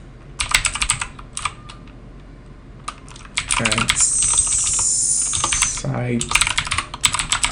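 Quick bursts of computer keyboard typing, clattering in clusters with short pauses, close and fairly loud, entering a command during a server setup, with a voice talking in between and a steady hiss in the middle.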